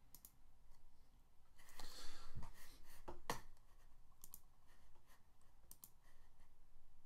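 A computer mouse clicks while editing shapes in a presentation program, giving a few faint, scattered taps and clicks over quiet room hiss, with no voice.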